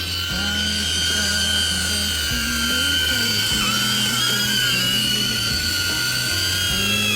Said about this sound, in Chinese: 按2下 lock 的这个按键呢，它就会起桨，然后你长按的话呢，飞机就可以起飞了。